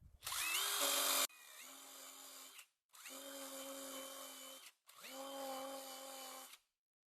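A power drill spinning a brush attachment whirs in three separate bursts, each a steady high-pitched spin lasting over a second, with short pauses between them.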